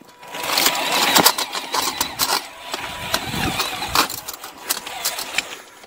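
A mining robot backs up through snow, its motor whirring steadily under rapid rattling and clicking from the drive. The sound is close and fairly loud, with crunching bursts throughout.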